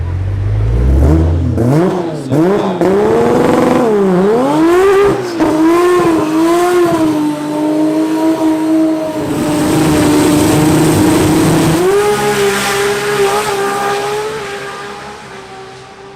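A Barra-swapped Ford Mustang GT350 launches and revs hard at a drag strip, its engine note climbing through rising gear pulls, loud and close for the full run with a brief tire chirp.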